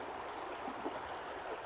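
Fast-moving water in a small trout creek, a steady close rushing and burbling flow with no voices over it.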